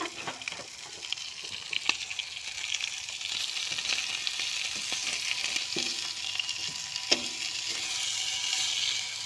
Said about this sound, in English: Sizzle, sizzle.